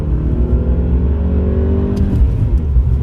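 A BMW E46 318i on the move, a steady engine hum with a low drone and rising and falling revs, heard from inside the car, with faint clicks near the end and no one talking.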